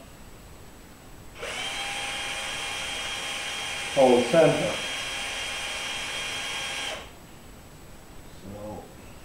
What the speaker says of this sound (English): make sure that there's no tendency for the drill in the drill press to slip off